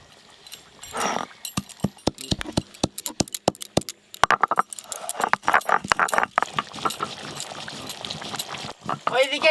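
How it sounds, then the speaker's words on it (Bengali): A chicken curry with kohlrabi boils in a pot, throwing out a quick irregular run of sharp bubbling pops and plops, close by, with a voice talking over parts of it. "টকবক করে মাংস ফুটতেছে"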